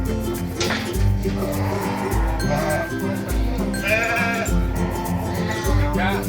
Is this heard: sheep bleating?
yes